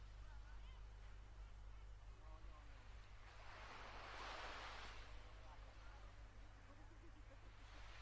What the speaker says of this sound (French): au bruit des vagues